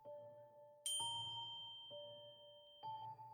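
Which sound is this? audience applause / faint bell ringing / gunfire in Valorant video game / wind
faint bell ringing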